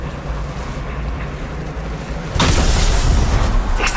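A frag grenade detonates in Apex Legends Mobile, a sudden loud boom that bursts in midway and rolls on as a broad rumbling roar over steady game ambience.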